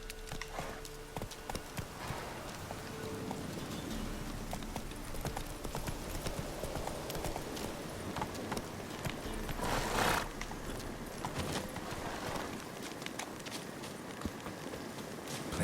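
In The Witcher 3, a horse gallops with rapid, steady clip-clop hoofbeats that carry on throughout, mixed with faint ambient game sounds and a brief louder burst around the middle.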